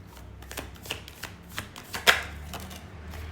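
Tarot cards are shuffled by hand in a quick run of soft papery riffles and taps, close and fairly quiet, with one sharper snap near the middle and no talk.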